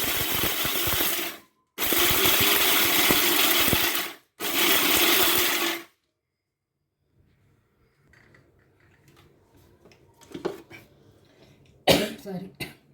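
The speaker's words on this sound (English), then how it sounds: "Now we'll close the jar and grind it. So I'm grinding it." A mixer grinder whirs loudly in three bursts as spice powder is ground in a jar, each run cut by a short pause, followed by quiet clinks and handling noises near the end.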